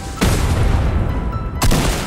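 Explosions in the Fortnite battle royale game, two loud, close blasts about a second and a half apart, each followed by a rumbling, crackling tail.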